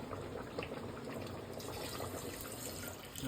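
Tap water runs steadily into a sink while a jar is washed during home chicken cooking, a close, continuous splashing stream with no talk.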